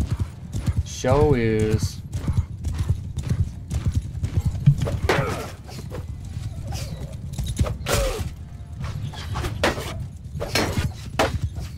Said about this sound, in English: is that our horse archers?